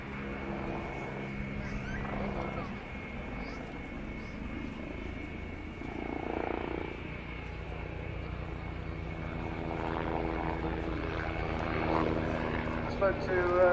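An Agusta A109 helicopter's steady whirring twin-turbine engine and rotor drone rumble throughout a flying display at RIAT 2012, swelling slightly louder later, while someone speaks over it.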